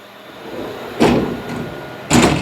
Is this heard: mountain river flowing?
no